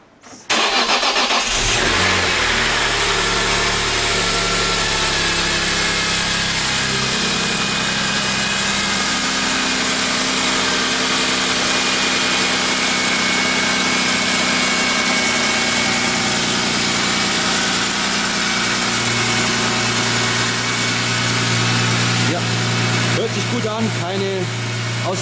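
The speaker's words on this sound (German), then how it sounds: "Jetzt kommt natürlich noch der Test, ob auch alles funktioniert. Dazu lassen wir einfach den Motor mal an." A BMW E46 M3 with its S54 straight-six, just rebuilt with new rod bearings, cranks and fires, then settles into a loud, steady idle close by, with a blip of revs near the end.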